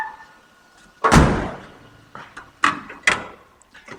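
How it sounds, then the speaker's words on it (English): A car door on a two-door conversion thuds shut once with a loud, close slam, followed by a few lighter knocks and clicks of bodywork nearby. "you kind of want the door shut."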